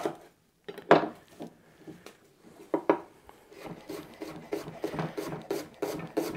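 A kitchen knife cuts onions into half rings on a board, a run of irregular crisp chopping taps and scraping strokes, close and moderately loud, with no talking.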